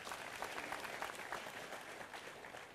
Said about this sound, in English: Can we just have a round of applause for them?